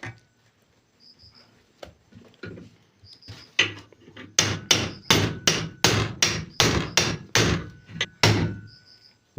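Repeated hammer blows on a metal sewing machine part, at first scattered and sparse, then a steady run of loud, sharp, close strikes with brief ringing tones between them.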